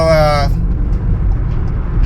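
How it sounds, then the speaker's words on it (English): Low, steady road and engine rumble inside a car moving through heavy freeway traffic, with a voice speaking briefly at the start. "I'm just trying to get away from this traffic"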